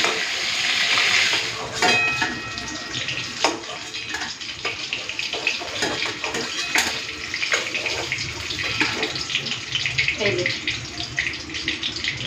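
Fried bhetki fish being lifted out of sizzling mustard oil, the steady hiss broken by utensil scrapes and sharp clicks as the pieces come out.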